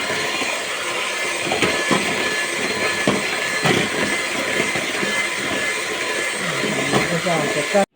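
An electric hand mixer whisks chocolate cake batter after a cup of vegetable oil has been added, a steady continuous whirring drone that runs loud and unbroken throughout, then cuts off abruptly at the end.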